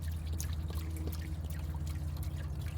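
Water drains and pours steadily out of a camper's hot water heater, a continuous gushing trickle with splashing, close and fairly loud, no talking.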